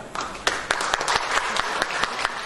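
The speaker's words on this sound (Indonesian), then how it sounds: "Saya berkata, tepuk tangan dong teman-teman semuanya." Scattered, uneven clapping from a seminar audience, moderately loud with several sharper claps standing out among softer ones and a hint of murmuring underneath.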